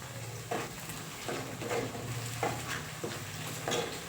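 Onions cook in a pan with a soft, steady sizzle, while a utensil stirs and scrapes against the metal in a few distinct knocks spaced about a second apart.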